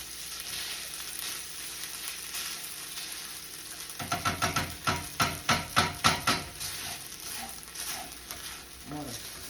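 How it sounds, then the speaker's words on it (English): Onion frying and caramelizing in a skillet gives a steady close sizzle, with a run of rhythmic stirring scrapes or taps through the middle and a few softer clicks near the end. "Get a nice caramelization on your onion."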